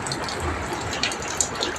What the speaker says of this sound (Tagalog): Sa sobrang lakas ng ulan, pasok ka ng tubig dito sa pintuan.